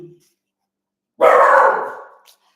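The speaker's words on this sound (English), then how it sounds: "He might bark a little bit here right now, but hopefully not" A dog barks once in a loud, sustained burst lasting about a second, close to the microphone and indoors, with a faint low vocal sound just before it.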